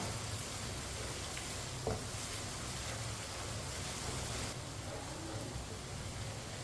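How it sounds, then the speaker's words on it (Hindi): Onion and garlic fry over a medium flame while a spoon stirs them, a steady faint crackling hiss with one brief scrape of the spoon. "इसे ऐसे ही चम्मच चलाते हुए पकाना है।"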